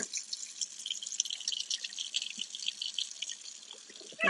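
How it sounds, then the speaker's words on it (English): Running tap water pours steadily over an almost four-pound chuck roast at a sink, giving a bright, close hiss and patter with small irregular splashes, and no voices. "rinse the meat off"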